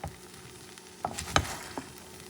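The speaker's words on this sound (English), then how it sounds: "you're going to stir carefully. You lift down, lift and down, lift and down, because you have chickpeas" Rice with scallops and chickpeas stirred gently in a hot pan, soft scraping and light clinks over a quiet sizzle, with a few distinct taps close by.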